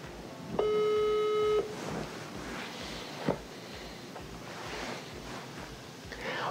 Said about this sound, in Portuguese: Vamos ligar, deixa eu colocar aqui pra... Pra gravar, estou ligando.